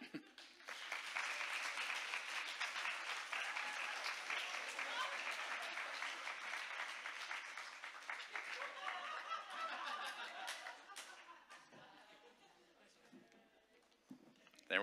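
An audience claps at an indie game showcase workshop in Portland, Oregon, a sustained burst of dense applause with scattered chuckles that gradually thins and fades toward the end.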